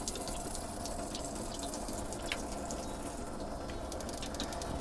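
Water rushes steadily from the opened inlet of a pressurized water tank, a constant close hiss and gush with no breaks.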